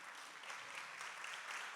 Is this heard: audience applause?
yes